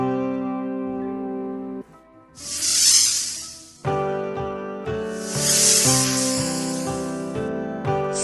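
A snake hissing in a children's animal-sounds collection: two long, loud breathy hisses rise over steady backing music, separated by a few seconds of music alone.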